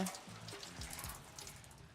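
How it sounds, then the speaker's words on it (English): Rain patters steadily on metal signs in the video game Loftia, a dense close spray of small droplet hits with a soft low rumble underneath and no talking. "The rain hits the metal."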